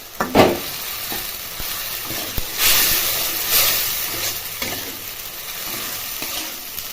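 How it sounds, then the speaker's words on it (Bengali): Spice paste frying in hot oil for a charred cauliflower dish, a steady close sizzle with stirring scrapes and a few louder bursts, no talking. "পেস্ট করে রাখা মশলাটা দেওয়ার পর ভালো করে কষিয়ে নিতে হবে"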